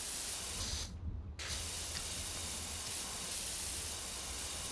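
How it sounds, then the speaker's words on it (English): A pressure washer sprays water in a loud, steady broadband hiss that fills the clip, with one brief break near the start before the spray resumes and continues unbroken. "I'm spraying the same thing over and over"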